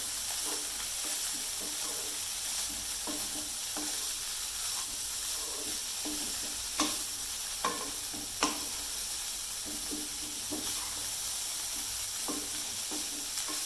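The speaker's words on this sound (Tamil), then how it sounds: "சுறா மீன் புட்டு இது நல்லா ஒன்று போல கிளறி விடணும்." Shark fish puttu, crumbled shark meat, is stirred and fried in a pan, giving a steady sizzle with repeated scraping and stirring strokes and a few sharper clacks of the spoon against the pan, close and continuous, with no talking.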